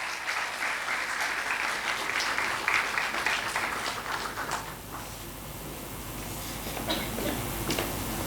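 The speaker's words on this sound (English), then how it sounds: "With huge round of applause, may I invite Manoj Chaudhary to join the panel." Audience at an annual HR dialogue panel event applauding a panelist invited on stage: sustained dense clapping from a crowd, steady for several seconds, dipping briefly midway before swelling again, with a faint voice underneath.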